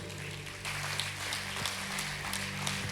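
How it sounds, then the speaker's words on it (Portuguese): Church congregation applauding for Jesus during a Brazilian Portuguese sermon, a steady dense wash of clapping held at an even level, with faint voices underneath. "Dá uma salva de palmas para Jesus"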